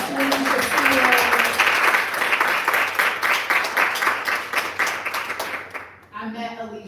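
Sustained clapping from a crowd honoring a poet at a library writer-in-residence celebration, loud and continuous, then a voice begins speaking as the applause fades out.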